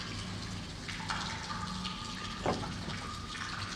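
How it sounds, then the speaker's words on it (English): Water running under old Roman baths in the video game Pentiment, a continuous close gurgle and trickle with a few brighter splashing tones, heard alone without speech. "Sounds like water's still running."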